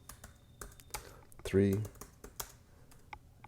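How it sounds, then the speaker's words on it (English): Rapid, uneven clacking of keys on a computer keyboard, close and clear, with someone speaking briefly partway through as the typing continues around his voice. "okay, this is a little bit of typing"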